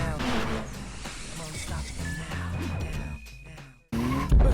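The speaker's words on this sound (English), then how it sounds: "At night, Itsuki takes Takumi up the mountain to practice drifting" A car drifts at night on a mountain road, its tires squealing and skidding over a steady engine drone, with voices and other sound layered on top and a sudden loud jolt near the end.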